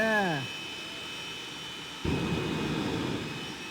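A jet-powered car on a 5/8-mile hard clay track winds down with a falling whine, then kicks in its afterburner with a sudden loud, broad roar that holds steady.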